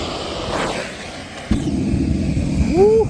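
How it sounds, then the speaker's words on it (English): A gas forge torch is lit and catches with a sudden low whoosh, settling into a steady close roar, while a rising whistle-like sweep appears near the end. "First, let's light this forge."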